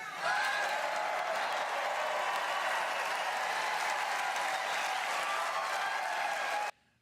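A pro-Trump crowd in Dallas cheers and applauds Arizona governor candidate Kari Lake, a dense, sustained roar of clapping and voices that holds steady before cutting off abruptly near the end.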